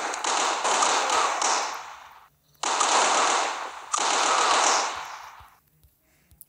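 Three long hissing bursts of gunfire from a gun in the video game Striker Pro 3D, each lasting over a second with brief gaps between, followed by quiet clicks.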